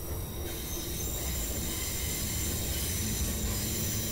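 Continuous high-pitched screech of train wheels grinding against rails on curves over a dense rumbling roar, loud and sustained without a break.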